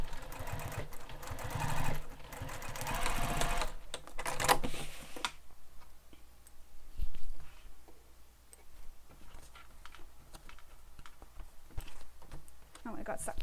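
A sewing machine top stitching across the exterior of a crossbody bag, bursts of rapid mechanical stitching rattle up close, then quieter ticking and handling noises follow.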